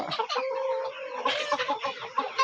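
Several chickens on a poultry farm cluck and chatter close by, their calls overlapping in a busy, continuous stream with no pauses.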